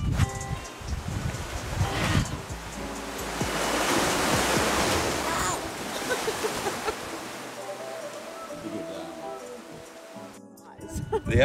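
Waves breaking on the shore at Broome, Western Australia, a broad continuous wash of surf that swells and recedes, with wind buffeting the microphone and a voice speaking over it.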